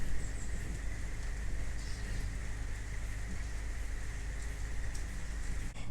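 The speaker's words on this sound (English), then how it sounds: "And it also started raining too." Steady rain falls outdoors, a dense continuous hiss of drops on surfaces that holds at a constant moderate level throughout with no talk.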